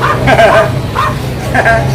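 A Golden Retriever barks a few times in quick, deep woofs close by, with people talking in the background.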